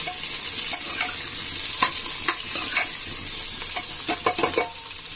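Onions and cumin fry in a hot pan with a steady, close sizzle, while a spoon scrapes and stirs in scattered clinks and scrapes throughout, with no talking.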